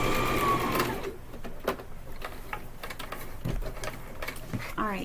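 A sewing machine back stitches fabric, starting with a brief burst of close motor whir and then falling into short, irregular clicks and taps from the mechanism.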